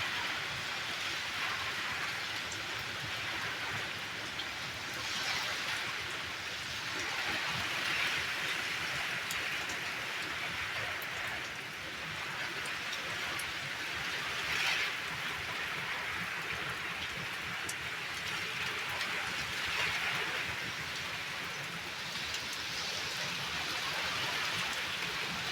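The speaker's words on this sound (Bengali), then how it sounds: "দেখো বৃষ্টিটাও সেরকমই হচ্ছে, হাওয়া যেমন বৃষ্টিটাও হচ্ছে সেরকম।" Heavy rain pours down without a break as Cyclone Remal passes, and gusty wind surges and eases over the dense roar of the downpour. The rain sounds close and steady, and no one speaks.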